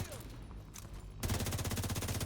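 Automatic gunfire in The Division 2 goes off as rapid, evenly spaced shots, loud and close, with scattered game effects before it starts.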